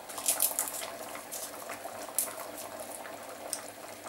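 Kerala chickpea curry (kadala curry) boils in a pot, with a soft, steady bubbling and popping, close and quiet, with no voices.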